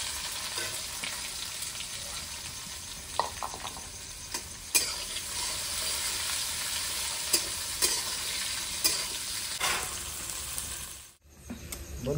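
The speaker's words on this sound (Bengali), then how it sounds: "পেঁয়াজ আমার ভাজা হয়ে গেছে" Sliced onions fry with dried red chillies and whole cumin for a chicken kosha curry, giving a steady, close sizzle with occasional stirring clicks and scrapes, then cutting off abruptly near the end.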